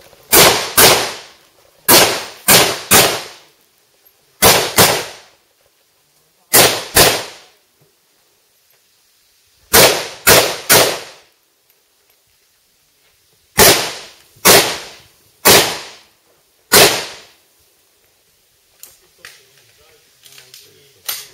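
Glock pistol shots at a shooting competition, sharp loud cracks fired in quick bursts of two to four with pauses between strings, ringing close and dominating, with faint voices near the end.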